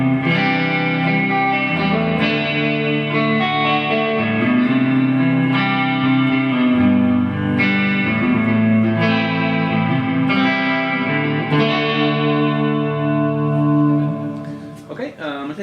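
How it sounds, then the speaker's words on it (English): A Peavey 6505MH guitar amp with its reverb turned fully up plays distorted, sustained guitar chords that change every couple of seconds, each one trailing off in a long, washy reverb tail. "I'm going to turn the reverb all the way up so you can kind of see what it's got."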